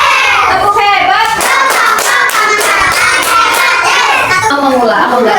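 A class of children clapping together on cue in a quick rhythmic pattern, their voices chanting along with the claps, close and loud.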